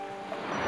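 Ocean waves washing onto a shore, a steady broadband surf wash that swells slightly over a brief moment, with no voices.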